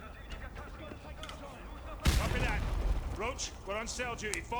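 A grenade explodes in Call of Duty: Modern Warfare 2 Remastered with a sudden loud boom and a rumbling tail, while someone talks over the game sounds before and after the blast.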